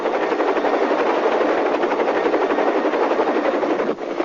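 A military helicopter drones loudly and steadily, its rotor chop giving a rapid, even pulse over a dense engine roar. It holds constant throughout, then dips briefly near the end, with no voices.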